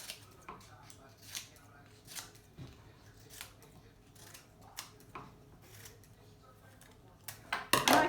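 Scissors cut paper into irregular strips with a series of separate, crisp snips spaced a second or so apart. They are close but fairly quiet, with a louder rustle of handled paper at the end and a voice faintly present.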